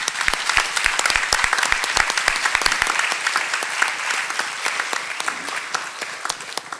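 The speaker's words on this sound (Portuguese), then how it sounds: "a Eke y a Vincent le demos un aplauso cariñoso" An audience at a political debate and book launch breaks into sustained warm applause, dense clapping from many hands that starts strong and tapers slightly, filling the room without voices standing out.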